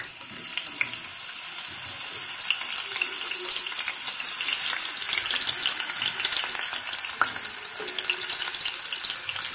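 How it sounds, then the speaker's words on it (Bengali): Potatoes fry in a pan with a steady, close, continuous sizzle and occasional crackles throughout, with no talking. "আমি আলুগুলো ভাজছি, আলুগুলো দিয়ে দিচ্ছি।"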